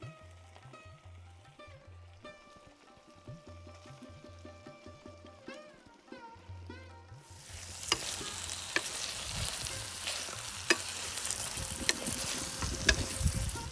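Jackfruit fritters drop into a pan of spiced masala that has released its oil, and the dry quiet stirring gives way to a loud, steady close-up sizzle that continues with clattering spoon scrapes.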